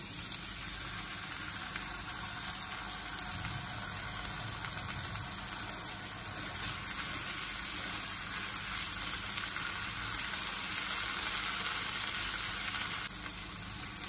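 Tomato paste sizzling in hot oil with ginger, cumin and coriander paste in a pan, a steady close crackle and hiss that runs the whole time with a few louder bursts of spattering, no voices.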